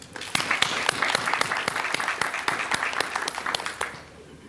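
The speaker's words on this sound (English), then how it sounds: "Let us congratulate all awardees with a round of applause." An audience at a police department promotion and recognition ceremony applauds the awardees, a sustained mass of clapping with sharp individual claps standing out, steady and fairly loud before tapering off at the end.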